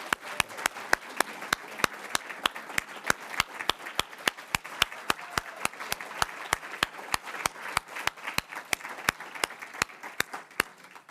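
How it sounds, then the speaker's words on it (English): Applause at a Ball State University journalism department awards event honoring a benefactor: evenly spaced, crisp claps repeating at a steady rhythm for about eleven seconds over a faint room hum. "Please join me in offering a round of applause for Gary Graham."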